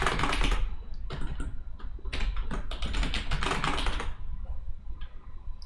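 Fingers tap out a password on a computer keyboard during a Kali Linux 2021.1 install in VirtualBox, a close, quick run of clicky keystrokes in irregular bursts with brief pauses, no talking.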